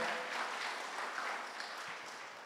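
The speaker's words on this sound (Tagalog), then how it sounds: "Isa pa nga pong papuring palakpak sa atin pong Panginoon." Short burst of congregational clapping in a church service, a soft, diffuse patter of many hands that fades slightly toward the end.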